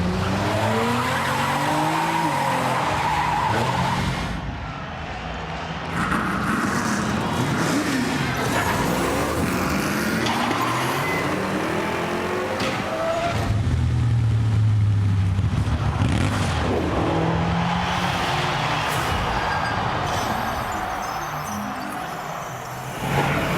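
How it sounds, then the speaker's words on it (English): Monster trucks tearing around in a Trials Fusion game trailer, revving engines, skidding tires and heavy thumps in a busy, loud mix with shifting pitch throughout. "Get to drive around some monster trucks."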